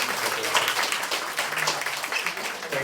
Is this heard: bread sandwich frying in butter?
no